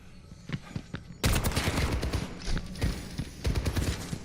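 Soldier's rifle firing in an Overwatch match, a sudden onset of dense, close automatic shots that continue in quick bursts with brief lulls over game ambience.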